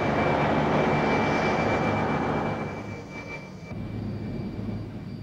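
Aircraft engines running on an airport flight line, a loud steady roar with a high whine that eases partway through, then settles into a lower continuous rumble.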